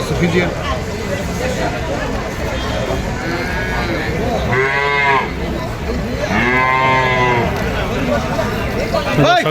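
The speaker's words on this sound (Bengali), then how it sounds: "খুব ভালো পার্সেন্টের তিনটা দামার বাছুর দেখতেছেন" Calves mooing on a cattle farm: two drawn-out, fairly close moos rise above a busy background, with people talking around them.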